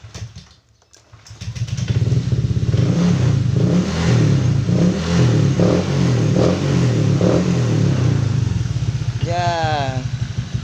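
A bored-up Honda Vario 125 scooter starts, then its engine revs in repeated rising bursts over a loud, throbbing idle, close by, with a brief voice near the end.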